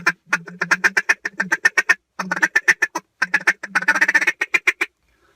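A hand-blown duck call imitates a hen's rapid feeding chuckle, delivered as quick, close, loud bursts of clipped notes in several runs separated by brief pauses.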